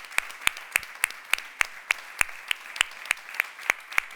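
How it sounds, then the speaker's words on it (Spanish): Applause at the close of a 25N community talk in Pontevedra, heard as a sparse, steady run of single sharp claps at a regular beat, fairly faint and without any voices over it. "Un aplauso a Macarena"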